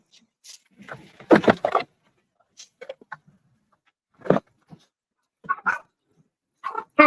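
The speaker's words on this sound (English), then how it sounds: "Hi, little doggies." Small dogs barking and yipping outdoors on a snowy day, a few sharp bursts spaced across the clip with quiet gaps between, fairly close.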